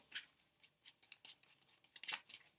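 Soft, quick papery riffles and snaps of tarot-style reading cards being shuffled, in short irregular bursts, close and fairly quiet.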